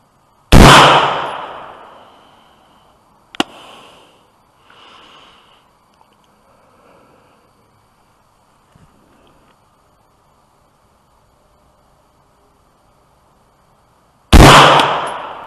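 An AR-15 rifle fitted with an Aimpoint Pro fires two loud, sharp shots about fourteen seconds apart, each with a short fading echo, and a few faint clicks and small knocks in between.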